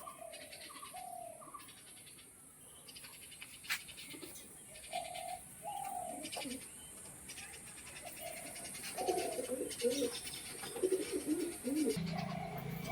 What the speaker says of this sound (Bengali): ভয় পাচ্ছে পায়রা দুটো